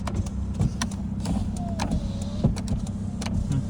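A Kia Rio's power window motor whirs steadily as the glass glides down on auto-down, with a few soft clicks and thumps inside the car.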